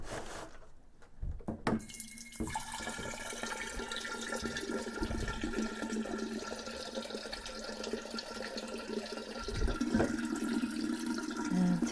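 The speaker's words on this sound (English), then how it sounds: "now I'm going to put some water in both of these to brew the tea" Water pours steadily into jars for brewing hibiscus kombucha tea, a continuous splashing stream that starts after a couple of quiet seconds and runs on close and clear, with no voices.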